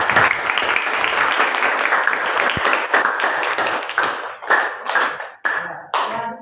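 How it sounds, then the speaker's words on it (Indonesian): Classroom applause from a group of students, a dense burst of clapping that runs steadily and then breaks into shorter, uneven spurts before fading out. "Kita kasih aplaus untuk pernyataan teman kalian."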